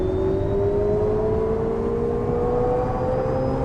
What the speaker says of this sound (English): Personally, I find the volume of the engine's far too loud